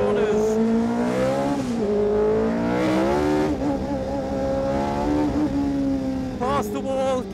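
A racing driver's vintage race car, a raw, mechanical machine out of a museum, is driven hard through corners. The engine sounds up close and revs rise and fall with each bend, and a voice talks over it.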